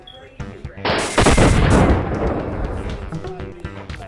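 Gunfire in a video game, a loud sudden burst starting about a second in, with rapid repeated shots and booms that trail off into a sustained rumble of continued firing.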